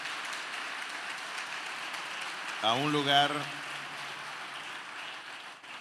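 Church congregation applauding during a convention service, soft rain-like clapping heard faintly and continuously, with a voice briefly speaking over it midway.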